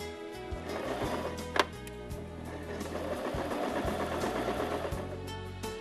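A Brother LS 1217 sewing machine stitches fabric tucks, its needle running in a fast, even mechanical chatter with brief pauses and one sharp click, close and clear.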